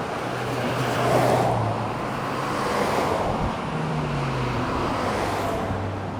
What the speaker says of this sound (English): I got some traffic up